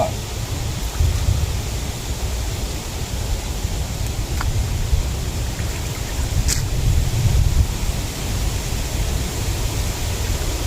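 Steady, dense hiss of rain falling continuously, with a faint low rumble underneath and no voices.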